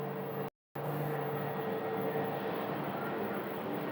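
A SkyWest CRJ 700 jet airliner departing Sky Harbor, a steady, broad distant jet roar with a faint whine, continuous at a moderate level, with a brief dropout early on and no talking.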